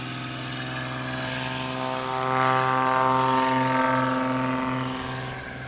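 A Cessna 185 light propeller plane drones loudly nearby at a short-takeoff competition, engine swelling to full power for takeoff and then fading slightly as it pulls away.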